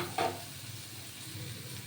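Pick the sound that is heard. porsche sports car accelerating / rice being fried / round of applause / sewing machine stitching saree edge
rice being fried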